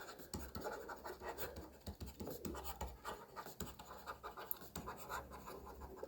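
A pen scratches across paper in faint, close strokes, a steady run of short scribbling rasps written out by hand during an A Level accounting worked solution, with no talking.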